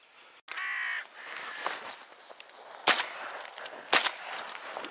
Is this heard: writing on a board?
no